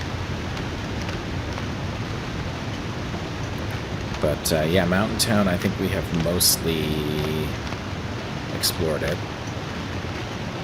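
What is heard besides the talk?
waterfall rushing in The Long Dark video game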